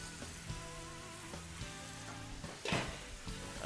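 Scallops sizzle and fry in a hot pan while being stirred, a continuous crackling hiss broken by a few soft scrapes and clinks, with a louder burst of sizzling near the end.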